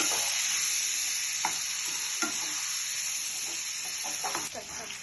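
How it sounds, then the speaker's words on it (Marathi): Vegetables sizzle steadily in a frying pan as a spoon stirs and sautés them, with occasional scraping clinks against the pan over a constant frying hiss. "भाज्यांना छान असं परतून घेऊ"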